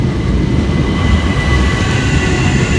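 A Southeastern Class 375 passenger train, the 07:46 Charing Cross to Hastings service, runs through Waterloo East station with a steady, loud rumble of wheels and motors, no voices.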